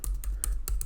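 Someone types on a computer keyboard, entering text into a file: a quick run of close, crisp key clicks at an uneven rhythm over a low background hum.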